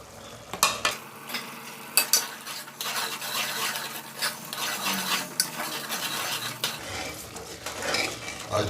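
Beef matar keema with dry spices being stirred in a pot: a utensil scrapes and clinks against the metal in repeated strokes over a low, steady sizzle, close and moderately loud, with no voices.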